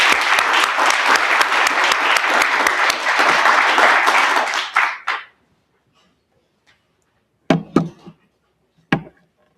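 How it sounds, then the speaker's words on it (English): Applause at a treatment court graduation ceremony for a graduate's son: dense, loud clapping from a room of people for about five seconds, ending abruptly, then a few scattered faint claps and knocks. "So let's give a round of applause for Cole Rowland."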